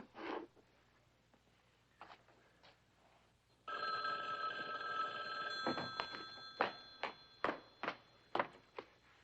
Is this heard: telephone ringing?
yes